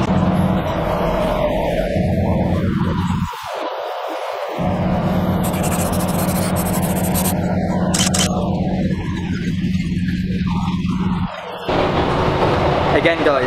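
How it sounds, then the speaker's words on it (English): Steady rumble of a passenger train heard from on board, on a delayed service into Aberystwyth, with continuous rolling drone and rattle throughout and brief dips in the noise, loud and close. "I'm still on the train."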